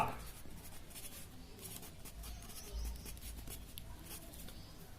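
Chalk or marker scratching on a board in a continuous run of quick, close strokes, moderately loud with no talk over it.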